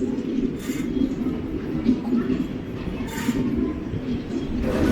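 A train rolls into Thrissur railway station with a steady, close rumble of carriages and wheels, and brief hissing bursts rise over the low drone.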